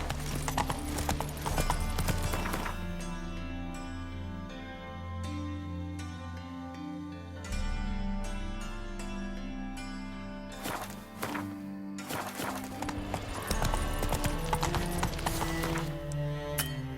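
Roach the horse gallops in The Witcher 3, a steady rapid clip-clop of hooves running throughout, loud and close under a busy game soundtrack.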